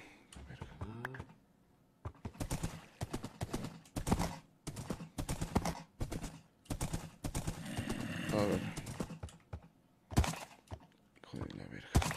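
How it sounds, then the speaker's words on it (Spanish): A horse in the video game Minecraft gives a short whinny near the start, followed by someone talking loudly in bursts with game sounds underneath. "Caballo."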